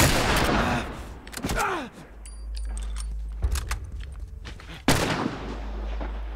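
Gunfire during a fight in The Last Of Us: several sharp, loud shots spaced unevenly over a low rumbling background, with fainter clicks and clatter in between.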